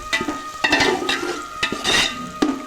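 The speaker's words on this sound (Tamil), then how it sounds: "நல்லா கிண்டிக்கிட்டே இருங்க" A spoon scrapes and stirs biryani in a metal cooking pot, several irregular clinks and scrapes close up over a soft sizzle, with no talking.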